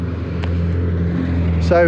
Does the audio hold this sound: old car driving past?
yes